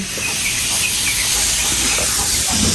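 Vegetables, including banana plant parts, sizzle steadily in a hot pan, a dense continuous hiss with faint crackles running throughout at close range.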